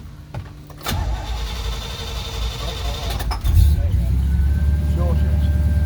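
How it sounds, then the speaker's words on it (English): A restored 1966 Pontiac GTO hardtop starts up and settles into a deep, steady idle, a low rumbling purr close by while people talk over it. "the car's not too loud, just purrs"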